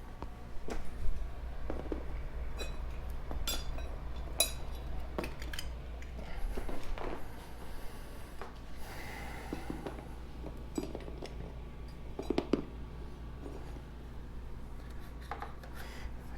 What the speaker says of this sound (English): I'm going to deburr a little bit the plastic part here